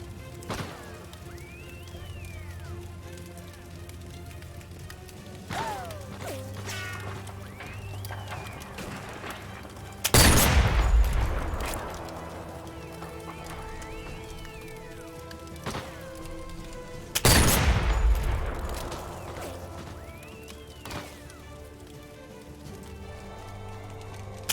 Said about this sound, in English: I took a few moments to test the weapon and my aim.